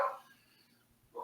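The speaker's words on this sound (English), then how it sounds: "so if you hear my dogs in the background" Small dogs yelping in the background, two short faint barks at the start and end of a quiet moment indoors.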